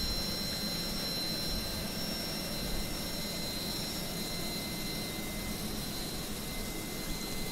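Jet engines of an Inibuilds FedEx A300 in the video game MSFS2020 make a steady, even roar with a high whine running through it, loud and unbroken from start to finish.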